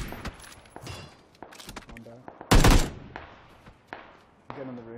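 Gunfire rings out in a shooting video game, a few sharp isolated shots and one loud burst midway, mixed with footsteps and players talking over each other.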